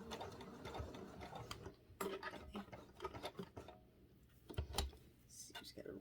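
A sewing machine stitching a sock cat toy, with the motor giving stuttering bursts of mechanical whirring and clicks that start and stop unevenly. A voice speaks quietly over it.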